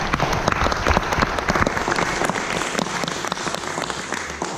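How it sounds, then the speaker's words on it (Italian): Audience applause from a crowd at a Lucca Comics stage event, dense loud clapping that carries on steadily and then thins slightly toward the end, with no voices over it. "Un applauso, ragazzi."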